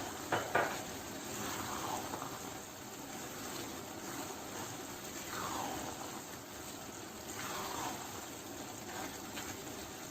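Rice with jaggery, almonds and finely chopped dried coconut is stirred in a pot, giving faint, intermittent scraping and soft bubbling or sizzling under steady low background noise, with no one speaking.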